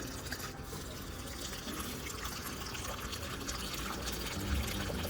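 Water pours steadily onto a potted mint plant, a continuous rushing splash lasting several seconds with no talk over it.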